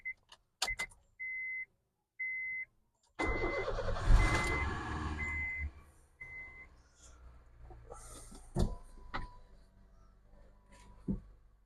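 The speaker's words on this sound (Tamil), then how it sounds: "ஸோ தான் காரை ரிவர்ஸ் எடுத்து விடணும்" Car engine starting after several short electronic beeps, then running and rising as the car reverses, with scattered clicks and thumps, at moderate level with no talk.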